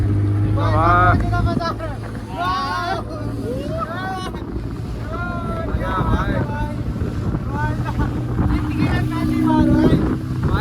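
A boat ride on open water with a steady engine drone and wind buffeting throughout, while several people talk and exclaim excitedly close to the microphone.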